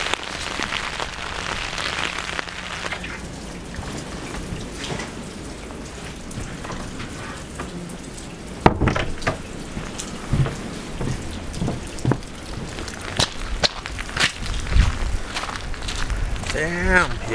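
Rain and gusting wind batter a mountain hiking trail outdoors, with a steady wash of rain and wind noise broken by sharp bursts and handling knocks; a person talks intermittently throughout.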